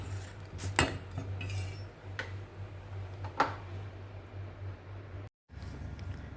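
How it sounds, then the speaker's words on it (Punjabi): A spoon stirs spinach saag with added gram flour in a metal pot, giving a few quiet clinks and scrapes against the sides over soft background hiss. "ਥੋੜਾ ਜਿਹਾ ਬੇਸਨ ਹੋਰ ਪਾ ਲੈਣੇ ਆ ਤੇ ਇਹਨੂੰ ਆਪਾਂ ਚੰਗੀ ਤਰ੍ਹਾਂ ਨਾਲ ਮਿਕਸ ਕਰਾਂਗੇ"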